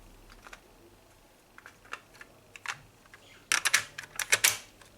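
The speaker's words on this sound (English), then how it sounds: "Let's just get our tape inside this thing." Cassette tape pushed into the deck of a Sharp 5P-27G boombox with TV: soft scattered clicks at first, then a loud, close burst of plastic clacks and snaps as the door and tape seat.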